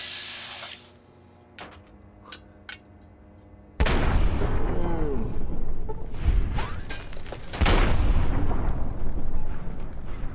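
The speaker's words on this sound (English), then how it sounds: "A stealth ninja explosion." A big explosion goes off in the video game Fallout 3 after a quiet stretch with a few clicks, a sudden loud boom followed by sustained rumbling blasts and crackling debris that surge again near the end.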